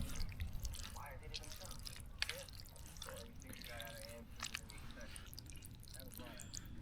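Macaroni cheese with salami being stirred in a camping pot outdoors: soft wet squelches and scrapes over steady wind-like background noise, with a voice speaking at moments.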